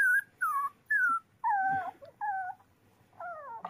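A tick-ridden abandoned puppy whimpers repeatedly while ticks are removed, a series of six drawn-out, falling whines in a steady, plaintive rhythm, close and clear with no one talking.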